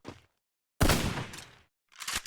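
Three separate bursts of rapid gunfire in the video game Free Fire, loud and close, with sharp silences between them.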